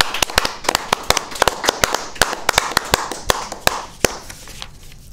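An awards banquet audience at an air safety forum applauds the admin staff: loud, close, sharp hand claps in an uneven scattered patter, with no talking.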